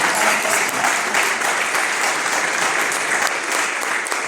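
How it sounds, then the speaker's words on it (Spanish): A church congregation claps loudly and continuously, a dense, steady wash of applause from a crowd filling the room with no speech over it. "Si va a aplaudir bien con fuerza."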